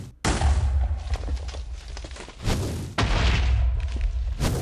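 Wither boss in Minecraft launching projectiles that destroy blocks, heard as a run of loud booming thuds and blasts with bursts at regular intervals, close and forceful throughout.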